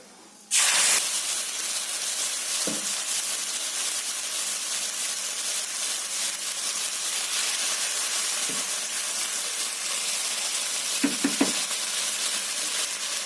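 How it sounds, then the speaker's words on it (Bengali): A ground paste of tomato, ginger, garlic, coriander, cumin, green chilli and onion hits hot oil in a karahi, bursting into a loud, steady hissing sizzle that continues throughout, with a few soft stirring knocks. "এটাই তেলের মধ্যে দিয়ে দেবো কড়াইতে।"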